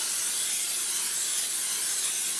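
Steady, close hiss of an aerosol oil spray into an air fryer basket held for a couple of seconds, broadband and even with no pauses.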